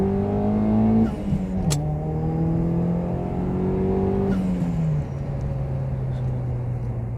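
A Peugeot 207 GTI fitted with a bigger intercooler pulls hard in first gear, the engine note climbing quickly, dropping at a brief shift, then rising again before settling into a steady drone, heard from inside the car.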